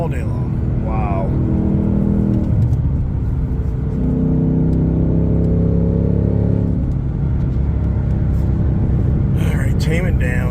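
A race truck fitted with a Whipple supercharger accelerates hard, a loud, close rumbling roar climbing in pitch through several gears before easing off, with faint voices briefly audible near the end.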